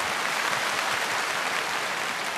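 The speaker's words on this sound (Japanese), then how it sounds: "もう一度盛大な拍手を。" Steady, dense applause from a large concert audience, a continuous wash of clapping that holds at the same level throughout.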